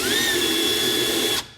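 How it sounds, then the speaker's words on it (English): A small bit in a power drill spins up with a high steady whine, drilling into a truck's bed liner for a Curt custom fifth wheel installation kit on a Chevy/GMC truck, then cuts off abruptly after about a second and a half. "What I'm going to do is just take a small drill bit,"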